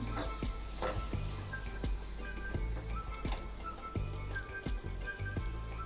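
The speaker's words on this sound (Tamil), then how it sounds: "இந்த மாதிரி மசாலாவை இந்த மாதிரி எண்ணெயில் வதக்கிட்டு போட்டால் ரொம்பவே டேஸ்ட்டாக இருக்குங்க" Masala paste sizzles and fries in hot oil for a rasam, a steady crackling hiss with soft stirring clinks, heard close up without talk.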